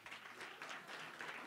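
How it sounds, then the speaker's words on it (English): Applause from an audience at a media event on blockchain in supply chain, a steady patter of many hands clapping at moderate volume for the full length, faint and slightly distant, with no voices over it. "A round of applause for him."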